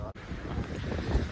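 Strong wind buffets a microphone outdoors, a dense low rumble lasting about a second with no clear speech over it.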